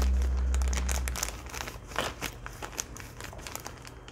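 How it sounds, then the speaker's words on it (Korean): A plastic zipper bag crinkles and crackles as it stretches while a fitting is pushed through a hole in it for octopus fishing gear, a soft rustle following a low rumble at the start. "그러면 비닐이니까, 지퍼백이니까 좀 늘어나면서"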